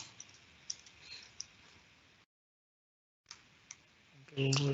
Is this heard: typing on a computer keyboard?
yes